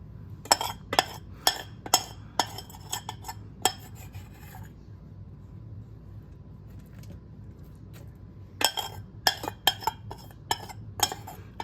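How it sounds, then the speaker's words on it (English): A metal utensil scrapes spice and garlic out of a pan, making a burst of sharp rhythmic scrapes and clinks, then a quiet pause, then another run of scraping strokes, close and clear. "Gotta get every piece of spice and garlic out of the pan here, folks."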